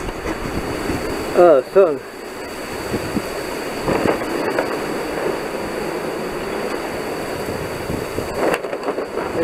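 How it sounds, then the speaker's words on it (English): Strong gusting wind ahead of an incoming storm front blows across an outdoor microphone as a steady roar, with a brief spoken exclamation early on. "It's like tornado wind."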